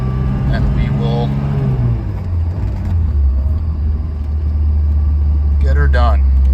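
A 1991 Alfa Romeo Spider engine hums and rumbles while driving in traffic, a loud steady low drone close by, with someone talking over it at the start and again near the end.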